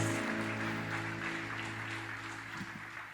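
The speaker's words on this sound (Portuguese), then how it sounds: "Quem escuta essas palmas e pensa, que isso, a igreja está lotada" Scattered applause fills a church during a sparsely attended Sunday service, a soft, continuous patter of hand claps over a sustained low organ-like drone.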